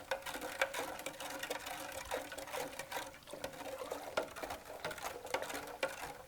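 Blackberry wine sorbet mixture being stirred by hand in a bowl, a quiet, continuous wet swishing and sloshing with small irregular clicks and patters close by.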